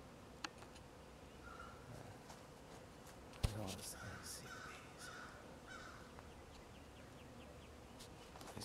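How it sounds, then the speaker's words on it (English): Crows cawing outdoors beside a tree, a few loud repeated caws standing out over a steady insect buzz from bees, with a sharp close knock partway through. "Ignore the crow. They're just mad I haven't fed them yet."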